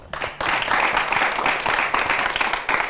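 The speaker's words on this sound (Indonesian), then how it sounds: "Tepuk tangan doang" Applause from an audience, a dense, steady wash of clapping that holds for about three seconds at close range with a brief dip near the start.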